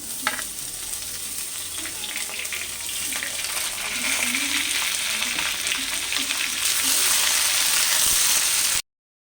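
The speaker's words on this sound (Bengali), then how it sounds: "এবার ভাজা আলুর মধ্যে আমি পেঁয়াজগুলোকে দিয়ে দিচ্ছি" Sliced onions and fried potatoes sizzle in hot oil in a pan, a steady close crackling hiss with occasional stirring scrapes that grows brighter and louder toward the end before cutting off abruptly.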